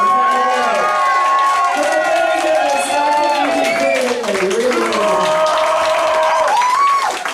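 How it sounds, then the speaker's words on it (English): A convention crowd at RikCon 2016 cheers and whoops loudly, with sustained shouting voices over scattered clapping, close and continuous throughout. "a massive clap for Intermittent Explosive Disorder"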